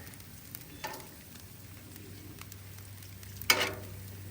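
Bacon frying on a Loco griddle, a soft continuous sizzle with a low hum beneath, a faint scrape near the start and a sharper spatula clatter later, with no talking.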